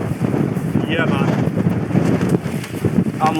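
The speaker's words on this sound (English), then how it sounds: "It's quite windy though, isn't it? Tent's having a little shakedown." Strong winter wind buffets a backpacking tent on a hillside, a steady loud roar of gusts and flapping fabric with heavy wind noise on the microphone throughout.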